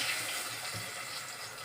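Cauliflower florets coated in a layer of flour fry in hot oil, giving a steady, close hiss of sizzling that fills the short stretch with no talking.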